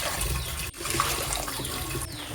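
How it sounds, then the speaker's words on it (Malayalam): Water pours steadily into a pot, three cups measured for idiyappam dough, with a continuous rushing splash, close by, briefly interrupted midway, with no voices. "ഒരു പാത്രത്തിലേക്ക് 3 കപ്പ് വെള്ളമാണ് ഒഴിക്കുന്നത്"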